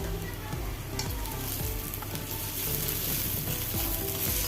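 Ginger for a mango-ginger pickle fries and is stirred in foaming sesame oil, making a loud, continuous close-up sizzle with scraping stirs throughout and no speech.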